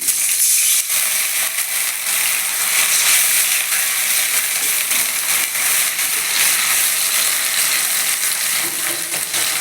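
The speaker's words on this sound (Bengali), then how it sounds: "রসুন আর পেঁয়াজটা ভাজা ভাজা হয়ে গেছে এবার আমি সামান্য একটু জল দিয়ে দিচ্ছি" Crushed garlic and onion fry in a pan for a thin mutton curry with papaya and potato, then a little water goes in, giving a loud, continuous, crackling sizzle heard alone.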